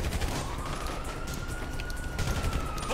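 Grand Theft Auto V gunfire rattles out in dense, rapid bursts, with a steady whine of a siren running under the shots.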